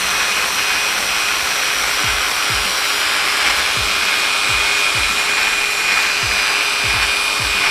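Rotary tool grinding and shaving metal while porting, a steady high-pitched whine running throughout with a dense, rasping texture and repeated short dips in pitch as the bit bites into the surface.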